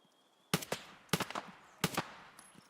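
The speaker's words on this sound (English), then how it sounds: "Gunshots ahead of us." Three separate bursts of distant gunfire from the shooter video game Escape from Tarkov, each a sharp crack followed by a short echoing rattle, spaced evenly about two thirds of a second apart over a quiet background.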